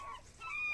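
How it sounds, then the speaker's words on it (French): Seagulls calling near a waterfront where fishermen have just arrived in Canada, a short series of thin, wavering cries rising over a low background murmur. "Les mouettes sont terribles."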